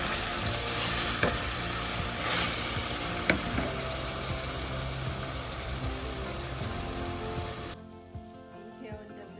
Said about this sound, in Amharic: ይሄው እንደምታዩት የሚበቃኝን ያህል በርበሬ እና ነጭ ሽንኩርት ጨምሬበት ያቅላል እያቁላላሁ ይገኛለሁ።